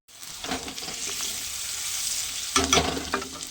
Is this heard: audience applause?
no